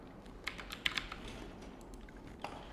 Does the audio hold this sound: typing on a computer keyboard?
yes